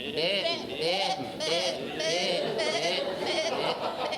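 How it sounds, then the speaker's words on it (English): Sheep bleat in a field, repeated wavering calls overlapping in a steady series, fairly close and clear, with no talking. "It's my belief that these sheep are labouring under the misapprehension that they're birds."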